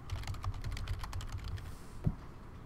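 Quick typing on a computer keyboard as a name goes into a file, a rapid run of soft key clicks for about two seconds ending in one firmer tap, close and quiet.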